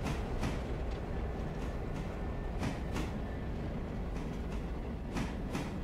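A train rolls past in the railroad simulation game Railroader, a steady, continuous rumble of wheels on track with periodic clacks as cars go by, close and sustained throughout without talk.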